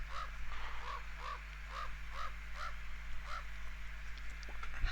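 A crow caws repeatedly inside a house in the Pumpkin Panic video game, a steady series of about eight raspy calls at an even rhythm over a low constant hum.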